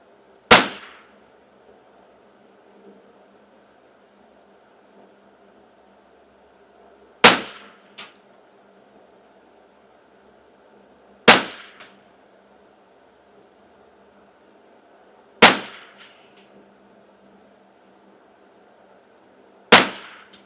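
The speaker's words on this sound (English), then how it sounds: "Looks like it's shooting CCI standard velocity better than anything I've ever had shoot CCI standard velocity." Ruger 10/22 custom shop rifle firing CCI standard velocity ammunition, five sharp single shots spaced several seconds apart, each a loud crack with a brief ringing tail over a faint steady background hum.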